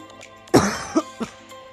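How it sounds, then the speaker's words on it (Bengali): A person coughs up close, one sharp loud cough followed by two smaller throaty coughs in quick succession, with no speech. "সরি গাইস একটু কাশি হয়েছে।"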